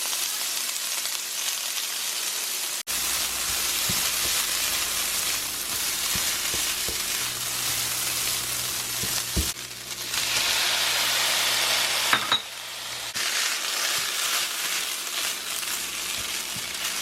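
A face steamer hisses and spits steam continuously, a steady broadband rush with occasional sputters and pops, fairly loud and close, with no talking.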